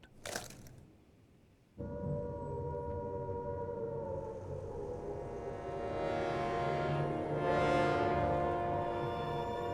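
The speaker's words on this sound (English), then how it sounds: "In Britain, the air raid sirens had sounded within minutes" An air raid siren sounds over wartime Britain, a long sustained wailing tone that swells and rises after a brief pause, steady and loud throughout.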